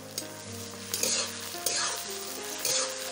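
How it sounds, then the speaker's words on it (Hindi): A paste of onion, cumin, ginger and garlic fries in a pan for egg curry, sizzling steadily close up while a spoon stirs and scrapes in several bursts. "देखिए हमारा प्याज लाल हो चुका है, मैंने इसमें जीरा, आदी, लहसुन और प्याज तीनों सबको पीस लिया।"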